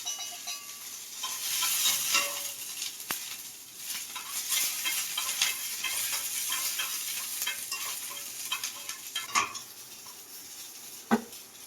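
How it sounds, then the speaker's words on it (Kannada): Green chillies fry in hot oil in a home kitchen pan, a steady sizzle broken by the scrape and clink of a stirring spoon against the pan, close and fairly loud with no talking. "ಹಸಿರು ಮೆಣಸಿನ್ಕಾಯಿ ಫ್ರೈ ಮಾಡಬೇಕು"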